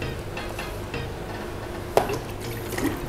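Water is poured slowly onto a plate set inside an aquarium, giving a steady trickling splash with a clink of the plate partway through and quieter dribbling after.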